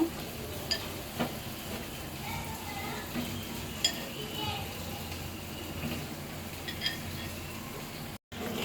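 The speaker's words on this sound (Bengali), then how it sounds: "মশলাটা কষানো হয়ে গেছে, এখন কলজাটা দিয়ে দিব।" Beef liver goes into a sizzling spice paste in a wok, giving a soft, steady frying hiss with occasional light clatters of stirring, fairly faint, while someone talks in the background.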